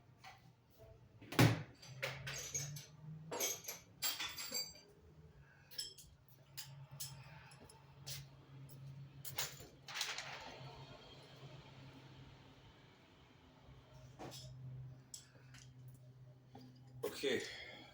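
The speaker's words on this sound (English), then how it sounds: "And now we're gonna torque it down. We're gonna tighten it down on a sequence on the oil pan." Oil pan bolts on a 6.0 LS engine being torqued down in sequence: scattered sharp clicks and metallic ratchet snaps, some louder than others, over a low background rumble.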